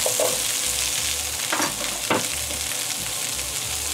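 Carrots and chickpeas frying in a pan for curry fried rice, a steady close sizzle with faint stirring scrapes, alone without talk.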